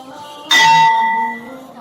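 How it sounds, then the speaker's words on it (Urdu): A school bell marking the end of a class period strikes once, loud and sharp, then rings on in a clear sustained tone that gradually fades over about a second. "مطلب یہ اس کا کیا مطلب ہے جو گھنٹی ہوئی ہے؟"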